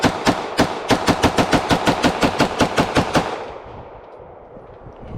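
A B+T APC9K submachine gun fires a rapid string of about fifteen loud, sharp shots over roughly three seconds; the reports then fade into a short decaying echo.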